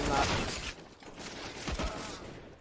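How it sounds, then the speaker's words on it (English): Rapid gunfire spray in a CS:GO match, bursts of fast shots over about a second and again near the end, under a caster talking excitedly. "Sprays through, hoping to catch CT players past the smokes"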